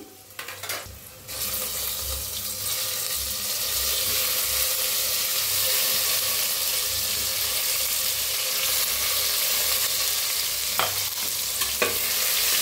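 Stuffed brinjals hiss and sizzle as they drop into hot curry-leaf tempering, with an initial clatter and then a steady, loud frying sizzle throughout, plus a couple of brief knocks near the end.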